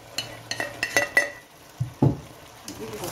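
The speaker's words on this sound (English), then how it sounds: "I give it a fine stir." Stirring food in a pot while cooking poulet DG, a chicken dish, with a spoon scraping and clinking against the pot in several separate knocks, close by with faint kitchen background.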